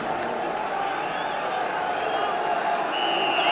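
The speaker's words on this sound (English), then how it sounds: "So a big crowd and a big atmosphere then" Large football stadium crowd at a Manchester United versus Chelsea match, a steady, dense roar of massed voices with scattered whistles, continuous and fairly loud throughout.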